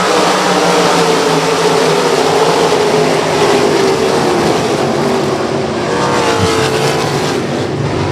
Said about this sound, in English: 20 laps for the Mid-Atlantic Sprint cars. We're underway.